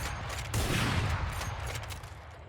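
Sniper and shotgun fire in the shooting game Valorant, a loud blast followed by a dense, rumbling burst of shots that tapers into fainter cracks, heard without voices.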